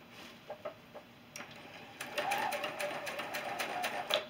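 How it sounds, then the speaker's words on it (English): A sewing machine stitches a quarter-inch quilt seam on a sampler block, a faint steady run of rapid needle clatter starting after a couple of soft taps, fairly quiet in the room. "And then I'm going to stitch my quarter inch seam."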